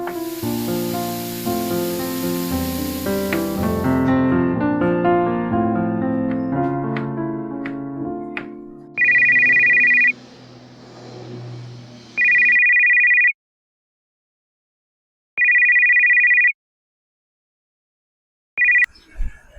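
Plucked instrumental music plays, then cuts to an electronic phone ringtone sounding in four bursts separated by short silences, loud and close.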